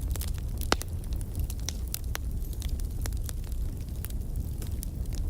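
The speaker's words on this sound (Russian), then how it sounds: "Внутри горит камин. Огонь мягко потрескивает" A fireplace fire crackles softly with scattered sharp pops and ticks over a steady low hiss, gentle and continuous throughout.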